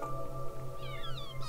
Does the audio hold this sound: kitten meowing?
yes